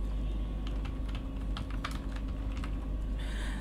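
Typing on a computer keyboard while entering header text on an MS Excel 2010 page layout, with irregular clusters of close, light key clicks over a low steady hum, heard alone.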